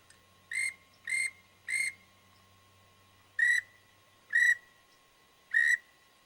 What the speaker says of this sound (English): your pintail whistle, you just roll the little ball in the back of your throat, and it's just like this